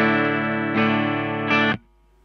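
Electric guitar run through a Colortone Roundhouse tremolo/vibe/reverb/drive pedal set as a mild overdrive, sustaining distorted chords struck three times in a row before cutting off, close and loud.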